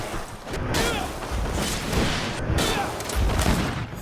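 A stasis bomb spell goes off in Greedfall during combat, a loud, sustained burst of crackling, smashing energy with sharp transient hits layered over dense battle noise.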